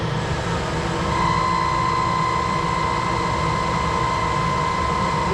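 Steady grinding whine of a tool post grinder dressing new jaws on a Pratt Burnerd lathe chuck, a continuous even drone with a faint high ringing tone, no talking.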